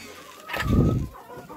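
A broody hen on a small farm gives one short, close cluck burst, a brief muffled throaty sound standing alone with light background noise around it.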